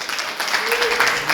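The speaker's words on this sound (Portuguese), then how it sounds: "Pode dar um aplauso ao Senhor Jesus?" A church congregation breaks into dense, steady applause, many hands clapping together at moderate loudness with voices faintly audible underneath.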